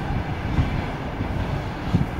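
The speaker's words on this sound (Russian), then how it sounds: "Вон паровозик идет, свежий электровозик. Опять РЖД вагоны." An electric locomotive pulls Russian Railways wagons past in a loud, continuous rumble. Soft rhythmic clicks from the wheels run through the steady rolling noise.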